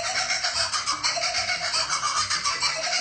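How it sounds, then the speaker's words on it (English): Sped-up kookaburra laughter, an Australian kingfisher's call that becomes the cartoon dolphin chatter, plays as a rapid, continuous string of high, bright chattering pulses, steady and fairly loud. "It was actually the sped up laughter of the kookaburra."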